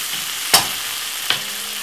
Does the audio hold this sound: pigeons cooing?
no